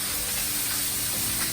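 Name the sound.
cooking spray sprayed on raw side of fish in pan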